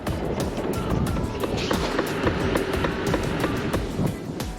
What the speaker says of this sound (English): Rear wheel sounds like a train.